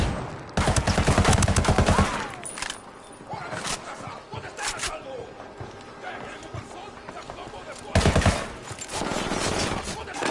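Bursts of automatic gunfire in the video game Ghost Recon Wildlands crackle loud and close in several volleys, with scattered shots and a voice speaking in the quieter gaps between them.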